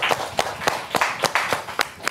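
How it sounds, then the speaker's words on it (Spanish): A handful of people clap for the guests at the close of a talk show. The claps come as a few sharp, evenly spaced hits over about two seconds, close to the microphone and fairly soft. "démosle un aplauso a nuestras invitadas"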